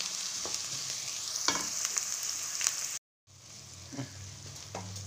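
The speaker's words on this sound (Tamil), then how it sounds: "வெங்காயம் பூண்டு கருவேப்பிலை இதெல்லாம் நல்லா வதக்கிக்கலாம் எண்ணெயில்" Onion, garlic and curry leaves sauté in oil for a drumstick kootu, a loud continuous sizzle with occasional spoon stirs and a short cut to silence near the end.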